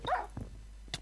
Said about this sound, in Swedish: Din hund attackerar min och jag hackar den hela tiden.